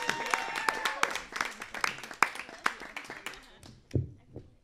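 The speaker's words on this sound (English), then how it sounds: "Don't stop applauding for Nick." A live comedy show audience claps for a comedian, with sharp individual claps in a loose burst that thins out toward the end, and voices mixed in.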